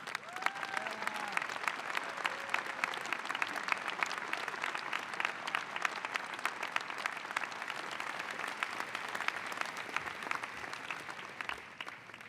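An audience at a School of Medicine pre-commencement ceremony applauds faculty members and leaders, steady sustained clapping from a large hall crowd that stays even from start to finish.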